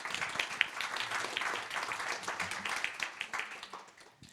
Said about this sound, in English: Let's give a round of applause to Kylie first.